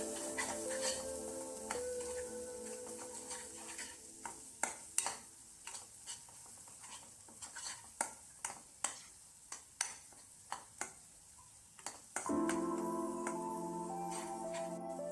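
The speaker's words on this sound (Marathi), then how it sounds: "चला तर आपण आता मसाले ॲड करून घेऊयात मसाले असे छान तेलामध्ये परतून घ्यायचे आहेत आपल्याला" Ground spices being sautéed in hot oil for a Marathi-style soybean masala gravy, a steady low sizzle broken by sharp spoon-on-pan scrapes and clinks, with the frying swelling louder near the end.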